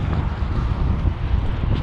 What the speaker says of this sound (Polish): Wiatr, ten piach.